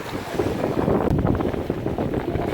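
A sailboat moving at 5 to 6 knots on a fairly calm sea gives a continuous rush of water along the hull mixed with gusty wind buffeting the microphone, steady and close.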